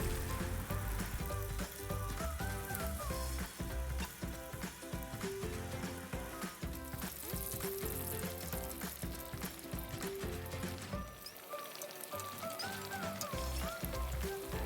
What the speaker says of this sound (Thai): ขั้นตอนนี้เรามาทอดหมูกรอบของเรารอบที่ 2 กันให้สุกกรอบเลยนะครับ